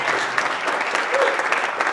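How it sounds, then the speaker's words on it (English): A crowd claps for creators at the LA Webfest 2023 Q&A event. The applause is brief, close and fairly loud, and it runs continuously across the couple of seconds. "Big round of applause for all of our creators."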